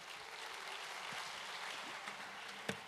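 A church congregation at a midweek Bible study gives a faint, distant, steady round of applause, with one sharper clap standing out near the end.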